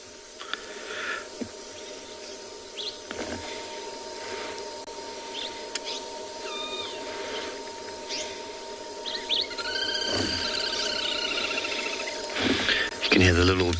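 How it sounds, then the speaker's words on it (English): Little grebes trill and chatter faintly in the background of an evening safari setting, thin high calls that grow busier toward the end, beneath a low steady hum and a voice talking. "You can hear the little grebes in the background."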